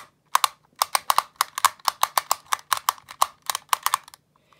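Magnetic pins on a QiYi magnetic clock puzzle flicked one after another, a rapid series of close, sharp plastic clicks in an uneven rhythm, about twenty-five in all.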